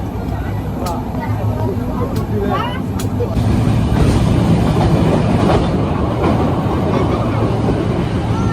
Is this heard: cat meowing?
no